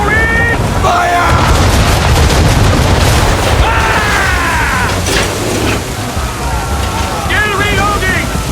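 Naval cannons boom repeatedly during a ship battle in Assassin's Creed 3, heavy blasts over wind and rushing water, with shouted voices and whistling projectiles in the mix.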